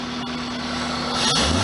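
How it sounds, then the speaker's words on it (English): A 1999 Toyota Celica ZZT231 engine idles steadily after a cold air intake fix, a smooth, even hum with a faint whine, close and alone, briefly rising in level near the end. "actually the engine sounds good now. It's not hesitating to idle"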